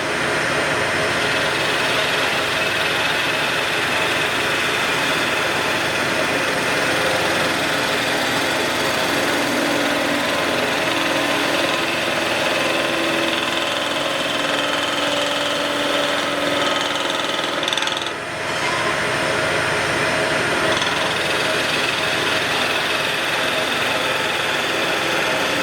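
Wood lathe spinning a spindle while a skew chisel cuts, a loud, continuous motor whir with dense broadband cutting noise, steady for the whole stretch with a brief dip near the end.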